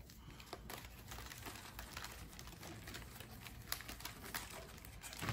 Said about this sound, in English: Let me shuffle these up a little bit.